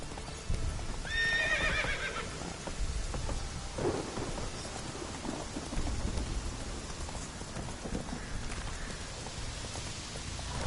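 In The Witcher 3 video game, the horse Roach gives a high whinny near the start, then trots with hooves clip-clopping under a steady bed of rain and rolling thunder.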